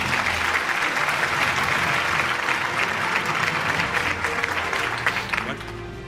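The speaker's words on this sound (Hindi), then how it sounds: "आपकी तालियां नहीं थमनी चाहिए" A large audience claps steadily as a guest walks on stage at the City News Network Annual Award Show 2025, a full, sustained wash of applause that eases slightly near the end.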